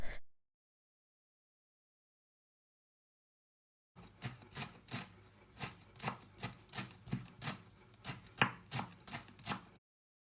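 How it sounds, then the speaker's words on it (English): Garlic, fresh coriander, chilies and onions being finely chopped with a knife on a board: a run of quick, steady close chops after a silent pause, fairly loud and rhythmic, with no talking. "So now just carry on chopping everything very small and very finely"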